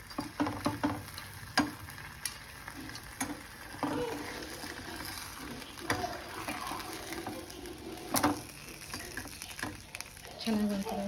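An omelette cooks in a pan with a chapati laid on top for a veg roll, a faint sizzle broken by soft scraping and clicking from a spatula.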